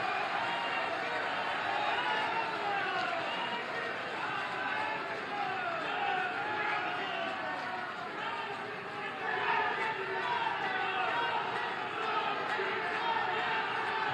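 A standing audience applauding at a public project inauguration and foundation-stone ceremony in India, with dense, sustained clapping and crowd noise that stays loud and steady throughout.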